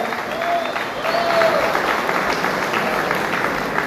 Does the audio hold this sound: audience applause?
yes